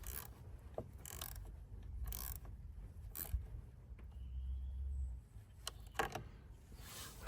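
Ratcheting and clicking of a wrench tightening the terminal nut on a car battery, a run of quiet mechanical clicks at close range with pauses between turns and no talk.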